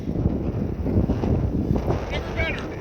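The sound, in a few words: strong wind on open water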